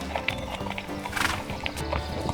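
A horse walks through a Tuscan vineyard on a trail ride, its steady clip-clop of hooves close by, with a clear whinny breaking through the hoofbeats.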